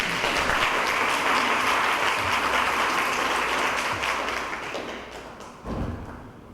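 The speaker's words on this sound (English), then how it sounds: "Give her a hand clap" An audience claps for a woman at a meeting, a steady broad round of applause that fades toward the end, with a few thumps near the close.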